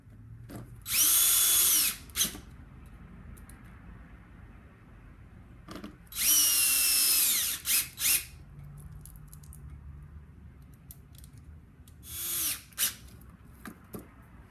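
A power drill drives screws into the air box of a 2003 Honda CBR600RR in three loud, close whirring bursts of about a second each, separated by quiet gaps with light handling clicks.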